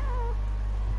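A cat in the Nights of Azure video game lets out a single short, high meow over a loud, steady low hum of game background sound.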